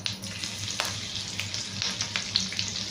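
Mustard seeds splutter in hot oil, making a dense, close crackle with scattered sharp pops over a steady low sizzle. The pops continue throughout, and no one speaks.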